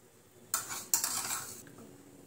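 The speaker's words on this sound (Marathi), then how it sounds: "अर्धा चमचा गूळ टाकून घेऊ आणि हे सर्व आपण मिक्स करून घेऊया" A spoon stirs jaggery into boiled plain dal in a pot: two short, close bursts of metallic scraping and clinking that fade quickly, with no talk.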